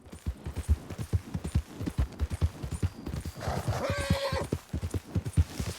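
Horse galloping in Red Dead Redemption 2, with a steady, rapid clip-clop of hooves throughout and a brief whinny partway through, alone without talk.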